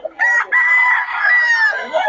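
Chicks and chickens at an outdoor market, giving a loud close cheeping and clucking call that lasts about two seconds, with a brief break near the start.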